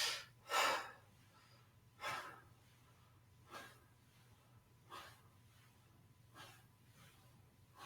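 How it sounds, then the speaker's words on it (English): Slow, steady breathing during a Qi Gong exercise, about six soft breaths spaced roughly a second and a half apart, close and quiet with no talk. "breathing out as we bring the arms back"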